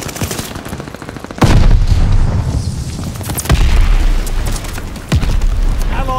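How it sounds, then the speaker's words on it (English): Mortar shells striking in Call of Duty Vanguard, Domination mode on the Berlin map: several heavy booming impacts land one after another among rattling gunfire, loud and close, with no talk. "Allied mortar fire inbound!"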